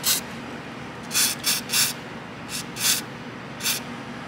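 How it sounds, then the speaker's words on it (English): A WD-40 spray can lets out short, close hissing bursts, about seven in all with brief gaps between them, during work on a Volvo XC hood and battery. "WD-40."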